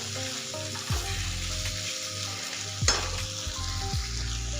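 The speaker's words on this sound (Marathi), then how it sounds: "मीठ घातल्याच्या नंतर छान एकदा परतून घ्यायचं।" Salted bitter gourd is stir-fried in a pan for a dry karela dish, giving a steady close sizzle broken by a few sharp spatula scrapes and knocks against the pan.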